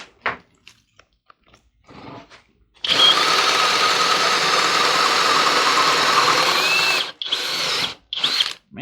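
A DeWalt cordless drill on its low setting with turbo bores into cedar wood in one loud, continuous four-second whine, following a few scattered clicks and bumps, then stops abruptly with brief trailing bursts.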